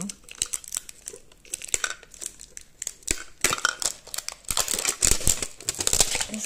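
Pokémon 151 mini tin card packs being torn open by hand, with crisp foil wrappers crinkling and ripping in busy bursts close to the mic, while a voice talks intermittently.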